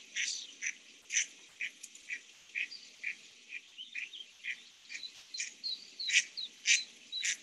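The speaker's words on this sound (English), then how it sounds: "That's a very upset hen duck there." An upset hen duck quacks repeatedly at night near a lake, sharp rhythmic calls about twice a second, fairly close and loud, with faint insect-like chirps in the background.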